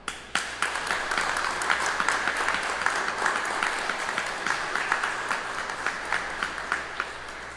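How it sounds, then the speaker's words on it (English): Steady applause fills a large room of staff at an organizational gathering, with many hands clapping, some sharp individual claps standing out near the front, and the ovation sustained at an even, fairly loud level throughout. "I want everybody to give a round of applause."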